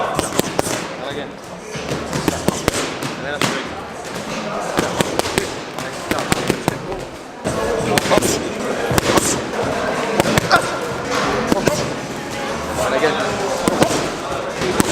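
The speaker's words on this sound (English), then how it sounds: "I've never took Scott in the pads in such a long time" Punches land on boxing pads in a rapid, uneven flurry of sharp slaps and thuds close to the listener, with people talking throughout.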